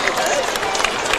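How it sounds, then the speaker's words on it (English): Crowd applause and cheering at a high school football game in the stands, a steady broad wash of clapping heard at a distance for a brief moment. "let's give him a hand of applause"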